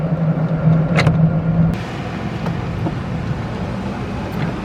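A car being driven, a steady engine hum from inside the cabin with faint clicks and bumps, the tone easing off midway into a quieter low rumble.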